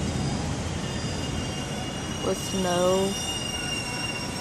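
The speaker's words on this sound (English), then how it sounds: "That's another train near Cork Bay Station." A train rolls past near Cork Bay Station, its wheels giving a rising metallic squeal over steady background rumble and hiss, moderately near, with a brief voice heard.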